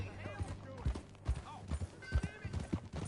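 Horse hooves clip-clopping at a steady riding gait in Red Dead Redemption 2, fairly faint beneath game music and characters talking.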